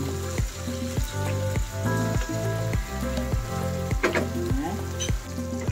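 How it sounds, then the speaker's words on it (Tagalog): Vermicelli noodles frying with soy sauce in a pan, a steady loud sizzle with rhythmic stirring scrapes at a regular beat under a continuous tonal background hum. "Ayan, maglalagay na tayo ng soy sauce. Haluin na lang natin."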